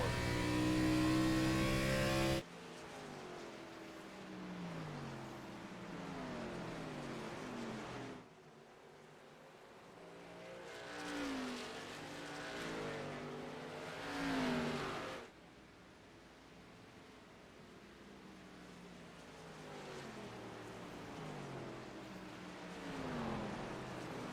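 Stock car engines race at New Hampshire in a Busch Series sim race, a loud burst that drops to distant droning engine notes rising and falling as cars pass, with no voices.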